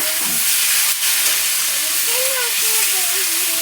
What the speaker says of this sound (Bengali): এবার মাংসটা দিয়ে দিলাম, নাড়াচাড়া করে নিলাম।